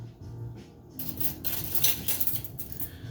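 A metal surgical needle holder is set down with a light clatter on a hard surface, a few quick metallic clinks after a quiet start, while a veterinary surgery pack is being assembled.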